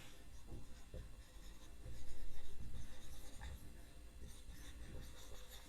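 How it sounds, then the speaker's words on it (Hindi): Steady soft rubbing and scraping of a teacher erasing writing from a board, faint and continuous with slight swells, no speech over it. "मैं ये वाला मैटर मिटा रहा हूं"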